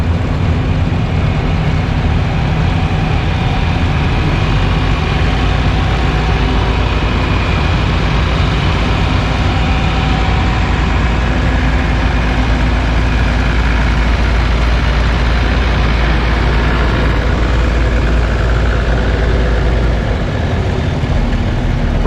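A John Deere 4020 tractor engine runs at a steady idle, a heavy low rumble and drone that stays loud and constant without revving, set against a busy outdoor equipment-show background with no clear talk.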